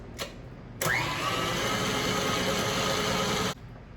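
An electric mixer whirs steadily through cheesecake filling for about three seconds, loud and close after a brief tap, then cuts off sharply with no talking.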